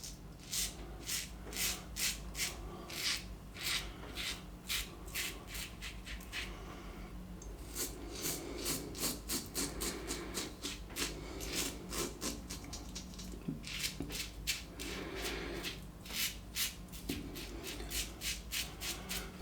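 A 1958 Gillette Fatboy safety razor scrapes across lathered stubble in quick, rhythmic rasping strokes. The strokes are close and fairly quiet, with brief gaps between short runs, and no voice is heard.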